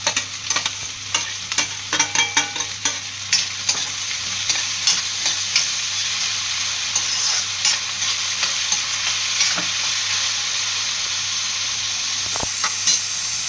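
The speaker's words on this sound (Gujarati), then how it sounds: "હવે આપણે આ ટમેટા નાખશું" Tomatoes frying and sizzling in a pan while being stirred, a steady loud hiss broken by scraping stir strokes, for a Kathiyawadi dish; no one speaks.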